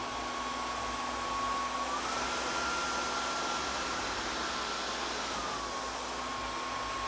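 A Dyson V15s Detect Submarine cordless vacuum cleaner runs with a steady, close high-pitched whine that rises to a higher speed after about two seconds, holds there, then drops back to its lower setting.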